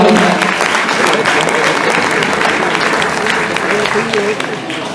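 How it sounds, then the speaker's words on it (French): Audience applause at a car rally prize-giving in Normandy, a steady loud wash of many hands clapping throughout, with voices murmuring underneath. "Vous pouvez applaudir."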